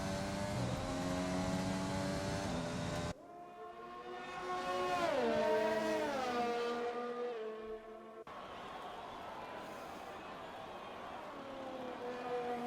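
A race car in the GP2 video game through Parabolica at Monza, engine revving and shifting with rising and falling pitch across several gear changes, loud and continuous with no talk.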